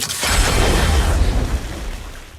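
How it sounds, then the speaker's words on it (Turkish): A loud, booming kill-announcement sound effect from a flame M416 weapon skin in a video game, with a deep explosive rumble that swells and slowly fades, heard alone. "Ölüm duyurusunda bir ses var."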